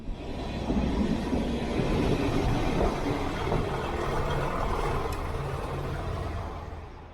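A train rumbles steadily past in the Derbyshire Dales, Peak District, a broad continuous roar that swells and slowly fades, with no voices.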